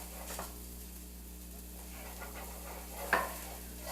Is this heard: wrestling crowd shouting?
no